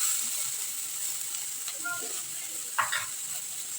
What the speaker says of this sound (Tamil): இந்த வெங்காயம் நல்லா வதங்கட்டோங்க.